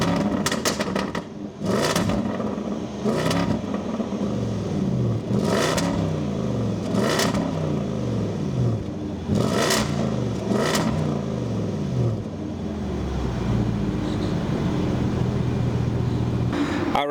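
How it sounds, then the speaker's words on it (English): A 2024 Land Rover Defender 110 V8 exhaust revs repeatedly, rising to sharp roaring bursts about every two seconds between rumbling idle, loud and close, settling into a low burble. "I'm going to tell you how the exhaust sounds."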